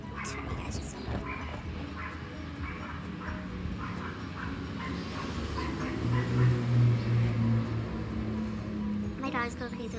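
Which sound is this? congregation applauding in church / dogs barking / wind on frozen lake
dogs barking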